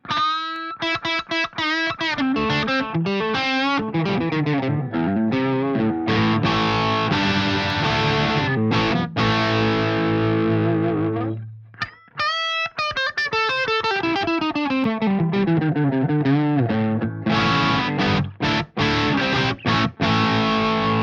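A heavily distorted PRS DGT SE electric guitar plays loud, sustained high-gain chords and riffs, briefly pausing before resuming just as aggressively.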